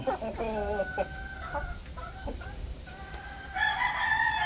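Rhode Island Red chickens nearby, one rooster crowing in a long drawn-out call, then clucks, and another crow rises near the end over faint farmyard background noise.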